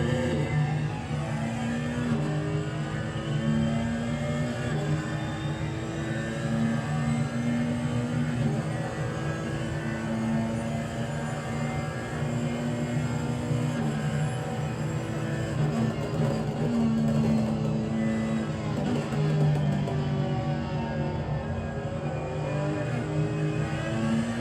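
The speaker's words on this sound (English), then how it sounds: "Right, let's listen to this Ferrari." Ferrari race car engine howling steadily at Suzuka circuit, a loud continuous high-pitched drone with rising and falling revs through gear changes, no voices.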